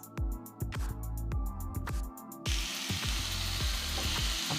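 Onion-wrapped, cheese-stuffed burgers sizzle on a Ninja Foodi Grill XL indoor countertop grill, a constant close hiss running beneath a rhythmic, beat-driven music track, with no voices.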